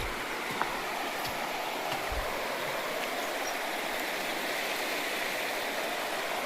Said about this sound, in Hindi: बहता हुआ पानी मैया का।